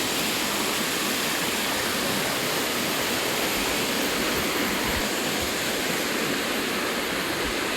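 Flowing water at a cool spot in Bali, a dense, steady rushing roar like a waterfall or fast stream, close and constant with no voices.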